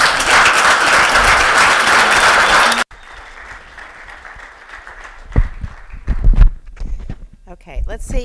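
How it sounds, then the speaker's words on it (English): A lecture audience applauds loudly for about three seconds, then it cuts off abruptly, followed by shuffling, thumps and a person speaking. "Let's give a big round of applause."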